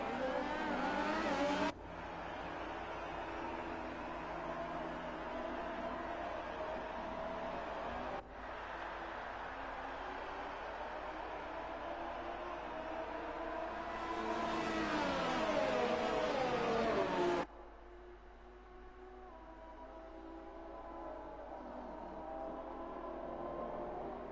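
Race cars in an F1 video game at the Austrian Grand Prix roar away from the grid, with a loud sustained engine drone, abrupt cuts between shots and rising revs before the sound drops to a quieter hum.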